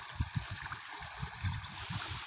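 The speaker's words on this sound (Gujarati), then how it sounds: "નીકુંમાં પાણી દોડ્યું જાય છે" Irrigation water runs through furrow channels on a sloping groundnut field, a steady gurgling flow with soft low pulses of water sloshing, fairly close and alone, no one talking.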